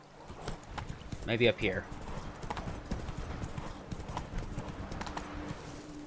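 Roach, a horse in The Witcher 3 video game, clip-clops at a steady gallop close by, with a brief neigh early on and someone speaking over the hoofbeats.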